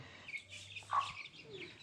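An Aseel rooster gives a few short, soft clucks, faint and close, over a quiet background.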